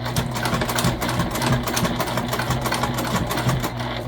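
Sewing machine stitching white elastic binding with white thread onto a small backpack, a fast continuous mechanical chatter of the needle, close and fairly loud, alone without talk.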